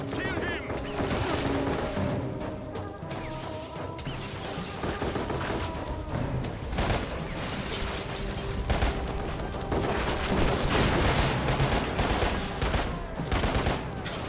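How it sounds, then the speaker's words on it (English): Rapid bursts of energy-weapon fire in a video game, crackling volleys layered over game music and ambience with steady density throughout, while a person talks over the action. "Those energy guns."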